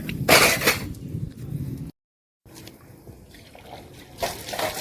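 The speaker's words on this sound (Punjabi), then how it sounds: "ਪਾਣੀ ਮਾਰ ਲਈਏ ਭਾਂਡਿਆਂ ਨੂੰ ਥਾਲਾਂ ਨੂੰ" Water splashes and trickles in short bursts as dishes and plates are rinsed outdoors at a gurdwara, with faint clinks of dishes and a brief silent gap midway.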